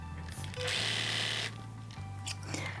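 Sewing machine stitching fabric pieces together for a homemade sling baby carrier, a steady close whirring run that stops briefly and then starts again, with no talking.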